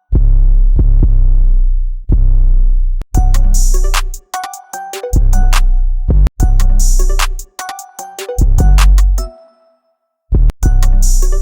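An 808 bass drum pattern drawn into a music production session, loud booming sub-bass hits in a syncopated rhythm with crisp percussive clicks on top, playing alone with brief gaps of silence.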